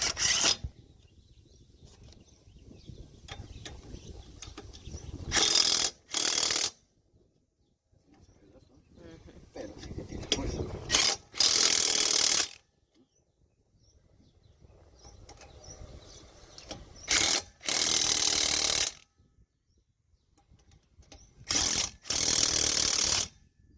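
A car wheel refitted during a mudflap install, with bursts of loud ratcheting and whirring as the lug nuts are run down, separated by quieter scraping and handling, close by.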